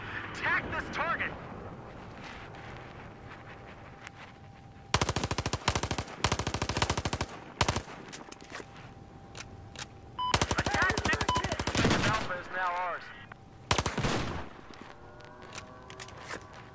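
M4 rifle gunfire in Battlefield 4 game combat: several long, loud bursts of rapid automatic fire separated by short pauses, with a player talking over the first seconds.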